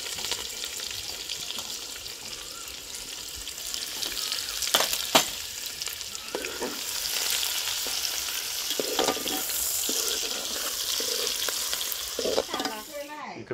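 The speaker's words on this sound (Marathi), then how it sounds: "तर आपला कांदा थोडा हलका फ्राय झाले" Onion frying in a pan with curry leaves gives a steady, close sizzle for the whole stretch, with scraping stir strokes and spoon clinks breaking through, especially toward the end.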